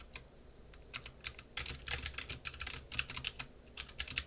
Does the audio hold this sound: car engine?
no